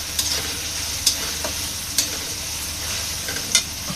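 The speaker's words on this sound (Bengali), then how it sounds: "এটাকে একটু আমি ভেজে নিব তেলে।" Crushed green chilies sizzle steadily in hot oil for a broiler chicken roast, with a few sharp clicks of a stirring spoon against the pan standing out over the continuous hiss.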